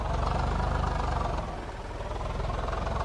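A tractor engine in Farming Simulator 22 chugs with a steady low, throbbing rumble close up and dips slightly in the middle. The tractor is hauling sand and struggling near trees and grass.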